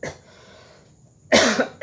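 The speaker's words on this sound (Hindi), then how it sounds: "धूल बहुत हो रहा है इसलिए खांसी हो रही है" A man coughs because of dust while sorting old Durga puja books and scriptures. A faint throat noise comes first, then two loud, close, harsh coughs in quick succession, with no talking.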